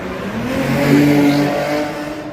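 A car speeding through a busy city street on Mission Street in San Francisco, its engine loud and close, revving up to a peak and holding a steady roar as it passes, with no talk.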